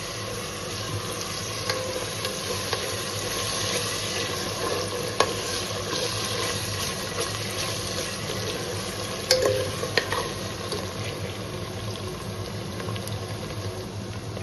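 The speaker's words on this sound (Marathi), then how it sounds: "या फोडणीमध्येच मी ही बारीक चिरून घेतलेली कोथिंबीर ही घालते." Finely chopped coriander frying in a hot spice tempering for prawn rice, a steady close sizzle and bubbling with a few faint stirring clicks, no voices.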